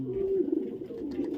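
Cooing calls of a competition songbird named Kalajengking, formerly Pedro, at a contest in Bandung: a close, soft series of low warbling coos with a short pause midway, alone without talk.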